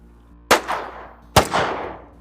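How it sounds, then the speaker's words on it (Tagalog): Two sharp sniper rifle shots, spaced under a second apart, each a loud close crack followed by a long echoing reverberant tail, in a dramatized action scene with no talking. "Muling may umalingaw-ngaw na putok mula sa sniper rifle."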